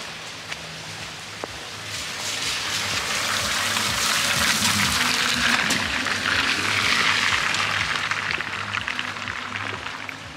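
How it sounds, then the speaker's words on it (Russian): Sleet, rain mixed with snow, falls in winter weather in Rostov, making a continuous hiss that swells toward the middle and fades slightly at the end, with a low background rumble beneath. "Снега-дождь. Вот типичная ростовская погода."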